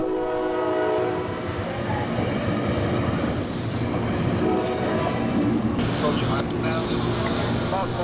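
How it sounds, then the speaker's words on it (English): A CSX freight locomotive on the Homestead Local sounds its horn loudly and at length at a nearby crossing over rumbling, squealing rail cars, with a voice faintly underneath. "The engineer seemed oddly excited about honking the horn at the crossing nearby."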